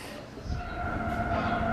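A train passing nearby during a Las Vegas outing, heard as a steady rumbling drone with tonal hum across the clip, building slightly in loudness.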